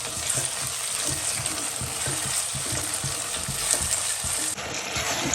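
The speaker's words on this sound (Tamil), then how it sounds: "இதையும் சேர்த்து நல்லா தக்காளி கொலைய வணக்கி வைக்கணும்" Tomatoes sizzle steadily in a pan, with a spatula stirring and scraping in a regular rhythm.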